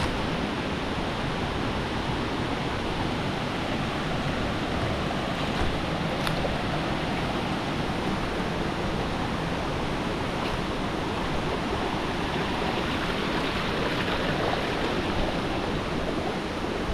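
Wind blows hard outdoors, a dense, continuous rushing roar that stays at constant loudness throughout, with no voices.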